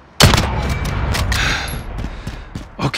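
Gunfire in the Call of Duty video game: a sudden loud burst opens a rapid fusillade of close shots, which thins into scattered reports with a final flurry at the end.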